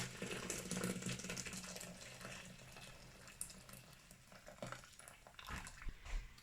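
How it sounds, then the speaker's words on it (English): Just-boiled water, about a litre, pours steadily into a blender jug with a hollow splashing rush, fairly quiet and close, with a few light clinks near the end. "I've just boiled the litre of water and I'm gonna pour it straight in here"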